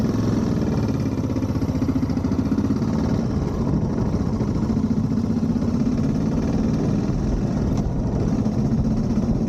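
Motorcycle riding along the wild Paldiski coast in Estonia, its engine a steady close drone with a continuous low rumble that holds even and unbroken throughout, with no voices.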